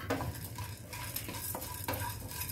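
Spices and a dried red chili are lightly roasted in a pan for a raw mango rasam, with soft sizzling under repeated scraping and clinking of a spoon against the pan, close up and with no talk.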